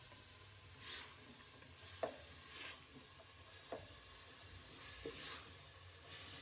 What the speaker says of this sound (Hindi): इसे अभी हम अच्छी तरह से फ्राई करेंगे, 5 मिनट मज़ीद और फ्राई करेंगे